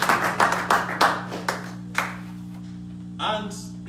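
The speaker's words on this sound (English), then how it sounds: "A round of applause for your ideas." Clapping from an audience at a political fundraising event in Columbus, Ohio: a handful of sharp, fairly close claps in an uneven rhythm that thin out and stop, over a steady low hum, with a brief voice near the end.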